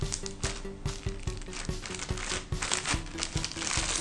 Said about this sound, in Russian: И застегиваю плотно вот этот зажимчик на пакете.